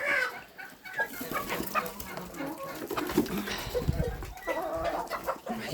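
Farmyard chickens cluck and mill about close underfoot in a chorus of short, overlapping clucks, with someone talking over them and a faint dog-like sound in the mix.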